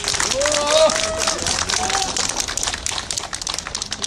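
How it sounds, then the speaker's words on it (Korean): At an election campaign launch rally in Haeundae, the audience claps for five district councillors. Thick, continuous applause fills the whole stretch, with a voice speaking over it near the start. "우리 함께 애써주시는 5분의 구의원들께 여러분 같이 응원해 주시고 큰 박수 좀 부탁드립니다"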